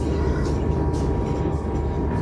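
Steady, loud rumble of a Pendolino train in motion, heard from inside the carriage with continuous low-frequency roar and no talking.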